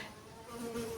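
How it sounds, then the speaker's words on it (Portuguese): Mosquitoes buzz close by with a thin, wavering whine that swells slightly toward the end, faint and steady with no talk over it. "esses mosquitos tá tirando minha concentração"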